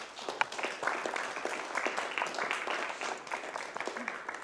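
Warm audience applause at a panel discussion event, a steady patter of many hands clapping that fills the whole stretch at moderate level, with no speech over it.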